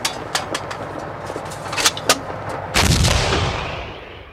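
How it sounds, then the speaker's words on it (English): A T-34 tank's main gun, a 76mm or later 85mm weapon, fires in a series of sharp blasts, ending in one heavy boom that rolls off into a long, fading rumble. "The first models fired a powerful 76mm."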